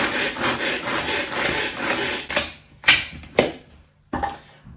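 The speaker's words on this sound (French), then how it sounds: "je fais donc 80 g d'oignon rouge que je vais mixer dans mon tornado" Tornado manual food chopper mincing red onion, giving a loud grinding, rasping whir for about two seconds, then several separate short bursts of chopping with brief pauses between them.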